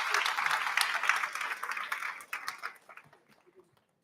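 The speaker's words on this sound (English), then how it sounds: "another round of applause" Audience applause after a talk at a media technology women's conference, a steady wash of many hands clapping that fades out over about three seconds, close and full.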